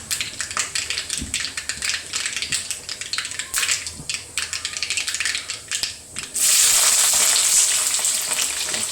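Chopped onion, green chilli and ginger sizzle and fry in hot ghee in a pan, a steady crackling hiss with stirring scrapes, growing louder and denser near the end.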